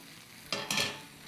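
Hot mutton hits oil in a pan for a chili stir fry, setting off a loud burst of sizzling and crackling frying. Two sharp onsets, the second stronger, then the sizzle holds steady and slowly fades, with no voices.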